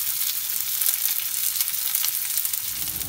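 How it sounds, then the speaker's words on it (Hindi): Chopped onions frying in hot oil in a pan for Bihari-style chana ghugni, a steady dense sizzle with faint stirring, continuous and close, no talk. "अरे प्याज के कनी लाल का भूज लेते थे।"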